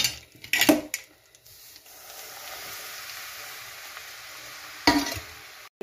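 Semolina halwa (sooji ka halwa) fries in a pan, giving a steady hiss and sizzle broken by loud stirring scrapes and clanks of a spoon against the pan near the start and end, with no talking.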